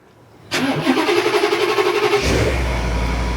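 A car's engine cranks and catches after a quiet start, then settles into a steady idle, remote-started on a snowy Montreal winter morning so it can warm up and melt the snow on it.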